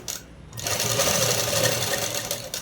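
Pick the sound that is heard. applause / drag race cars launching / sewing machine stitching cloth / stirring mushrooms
sewing machine stitching cloth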